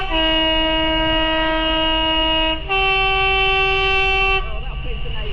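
Class 66 freight locomotive throttling up during a storm at Bedelands, a loud sustained tonal horn-like roar that holds steady, briefly dips and shifts pitch, then fades; voices are faint beneath it.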